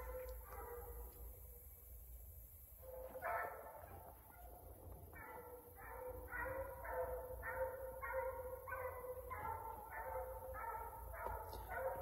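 A coon hunting hound bays on a track outdoors at night, a steady series of repeated bawling barks from a moderate distance against a constant insect drone.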